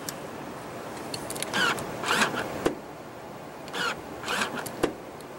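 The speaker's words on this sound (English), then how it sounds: "you can fold the rear seats down, power folding rear seats" Power-folding rear seats of a 2015 Mercedes-Benz GL350 diesel V6 operating from a button press, with two bursts of motor whir and a soft latch click after each, close by in a quiet cabin.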